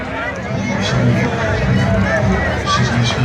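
A crowd at Comic-Con in California, a dense steady babble of many voices and footsteps close all around, continuous with no pauses.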